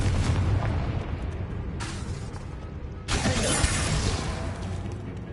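The Confringo fire spell in the video game Hogwarts Legacy bursts with a sharp, shattering blast, following an earlier whooshing hit, and then a roaring, crackling burn that holds loud to the end.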